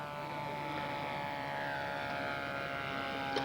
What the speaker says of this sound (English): Mark Enderby with Tulsa, USA, flying at a new 1/3 scale J3 Cub.